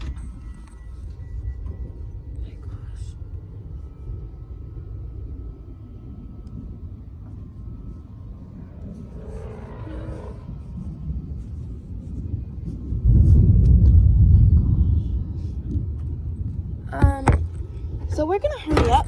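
Low thunder rumbles through a dark thunderstorm heard from indoors at home, a steady distant roll that swells into a loud, heavy crash near the middle, followed by sharp cracking bursts toward the end.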